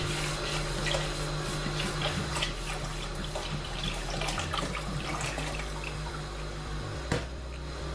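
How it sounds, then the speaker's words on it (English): Two liters of milk poured into a non-stick pan, a continuous close liquid rush and splashing with faint drips over a steady low background hum, no speech. "put your 2 liters of milk in here"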